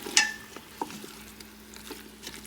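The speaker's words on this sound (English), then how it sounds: "So let's mix the mutton properly." Mutton being stirred with masala and spices in a pan, a spoon scraping and clinking against the metal over a soft sizzle, with one sharp tap near the start and quieter stirring after.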